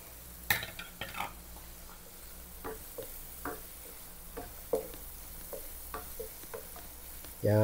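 Garlic and onion frying in a pan, a soft continuous sizzle broken by scattered clinks and scrapes of a utensil, then a louder clatter at the very end.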